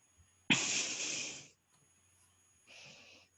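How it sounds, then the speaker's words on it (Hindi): Close breathing into a microphone during an online class, one long loud breathy exhale followed after a pause by a shorter, softer breath, hissy and near with no speech. "सांसों की आवाज आ रही है भाई"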